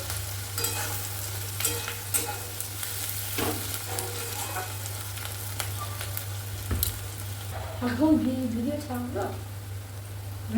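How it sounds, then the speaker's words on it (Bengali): Onions frying in a pan while a chicken dish is being cooked, a steady close sizzle with stirring scrapes and clatter throughout, the frying growing louder and more crackling near the end; a person speaks over it at times. "দেখো পেঁয়াজটা কিন্তু ভাজা ভাজা হয়েছে কিন্তু বেশি ভাজবো না"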